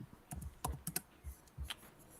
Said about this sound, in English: Typing in Christ.